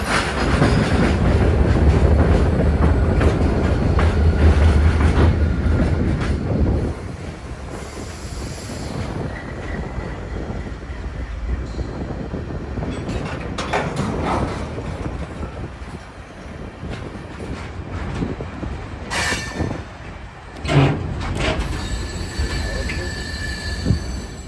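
The nightly QNSL manifest freight train, headed for Labrador City, passes close by on a remote line near Sept-Iles in Quebec. It makes a loud rumble of wheels, with clicking rail joints and squealing wheels that fade into irregular clanks.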